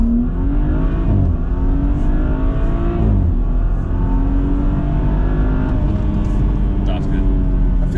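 A BMW M3 F80 or M135i F20 engine revs hard and climbs steadily in pitch, loud and close, with people talking over the droning motor.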